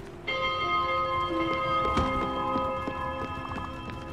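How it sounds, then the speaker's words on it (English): Bell ringing in the video game Spiritfarer, a layered chiming tone with long sustained harmonics over a steady game soundtrack, struck again partway through and ringing on to the end. "I guess ring the bell?"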